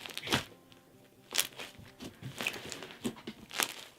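Pink and blue bubblegum floam slime being squeezed and crunched by hand, giving a series of crisp crackling and crinkling pops in irregular bursts, close and fairly quiet with no talking.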